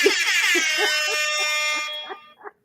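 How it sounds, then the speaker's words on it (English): A loud sustained horn blast lasting about two seconds, bright and brassy, cutting off abruptly, followed by a couple of short faint blips. "I'm an intern with the air horn for you."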